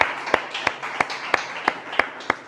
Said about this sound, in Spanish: el que lo cree dice amén y le da un aplauso al Señor